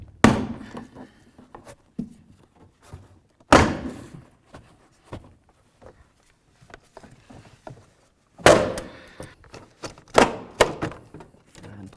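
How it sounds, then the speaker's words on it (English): Panel being pried off the front door of a 2000-2005 Buick LeSabre, heard as a few sharp plastic clip pops and thunks separated by quieter rustling and handling. "Carefully get in between this area and gently pry."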